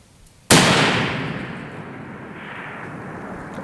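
A .338 Lapua Magnum rifle fires a single loud, sharp shot at a 1,000-yard range, followed by a long rolling echo that slowly fades.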